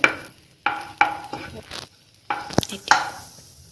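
Dates and raisins fry in a pan for pumpkin halwa, with several sharp spoon scrapes and stirs against the pan in irregular bursts over a soft sizzle.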